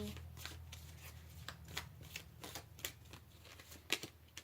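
Tarot cards are shuffled close up in a quiet room, giving a steady, soft riffling patter broken by sharper slaps and flicks, with a low hum underneath and no talk.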